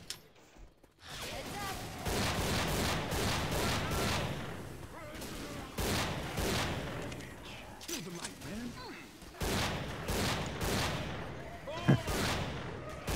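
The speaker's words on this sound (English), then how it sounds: "I'm shooting these zombies with the fucking hand cannon" Rapid, repeated hand cannon gunfire blasts at zombies in modded Left 4 Dead 2, with loud bursts of shots over several seconds and someone speaking at times under the shooting.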